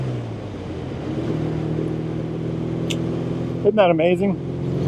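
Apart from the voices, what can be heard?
1948 Triumph T100 Tiger motorcycle, 500cc parallel twin engine, riding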